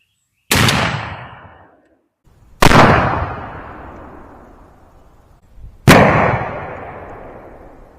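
A 12 gauge shotgun fires three loud, separate shots of Winchester Long Beard XR 3.5-inch turkey loads with No. 5 shot, each blast sharp and close, followed by a long echoing decay.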